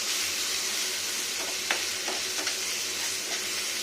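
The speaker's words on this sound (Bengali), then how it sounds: "পেঁয়াজটা ভাজা ভাজা হয়ে যাচ্ছে, একটু ভালো করে ভাজতে হবে।" Onions frying in a pan with crushed ginger, a steady close hiss and sizzle with a few soft stirring clicks, no voices.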